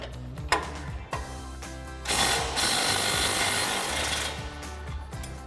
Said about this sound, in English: we're gonna take our lower shock mount bolt out, the 19mm head with the 19mm nut.